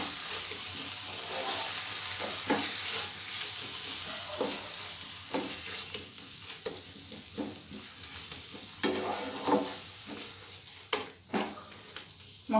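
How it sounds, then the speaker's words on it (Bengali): Masala with a splash of water being stir-fried on a medium flame for Andhra-style boiled egg fry. A steady sizzle runs under repeated scraping and stirring strokes that turn sharper and more separate toward the end. "এবার সামান্য জল দেব, মশলাটা ভালো করে কষে নেব মিডিয়াম ফ্লেমে।"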